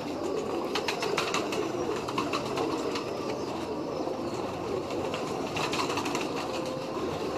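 Teddy pigeons kept in pure condition give soft, low cooing amid a busy, continuous background rumble, with no voices.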